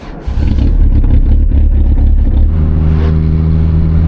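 A rusty old car engine turns over and catches, then settles into a steady, loud, close idle that revs up as the car pulls away, with no talking.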